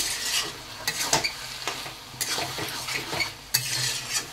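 Hilsa fish head and ash gourd ghonto, mixed with roasted cumin powder and rice flour paste, is stirred in a pan, with repeated clattering scrapes of a spoon over a soft sizzle, close up and alone.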